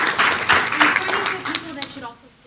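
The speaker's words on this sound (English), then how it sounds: "if we could give her a round of applause for shepherding the anti-criminalization bill through the state legislature" Applause breaks out for Ayako from the law school at an academic colloquium, a broad wash of clapping that swells early then fades by the end, with voices mixed in.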